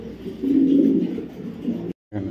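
Racing pigeons from a BRPFC club coo close by, a sustained low throaty coo swelling and fading, then a brief break and another coo.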